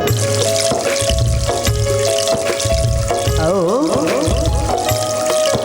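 A waterfall sound effect in an Odia village stage play gives a continuous rush of pouring, trickling water. It runs under a loud melodic instrumental accompaniment with sliding notes and a rhythmic beat.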